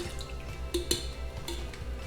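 Honey-mixed mead must being poured back into its container, a soft steady liquid pour with a couple of brief splashy clinks, fairly quiet with no talking.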